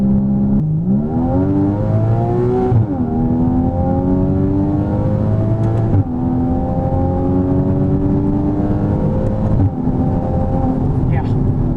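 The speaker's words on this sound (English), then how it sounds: "I don't know if you can hear me over this exhaust" A 2014 Porsche Cayman's engine revs hard through the gears with a loud exhaust, each pull climbing in pitch before a quick drop at the shift, repeated several times, heard from inside the car.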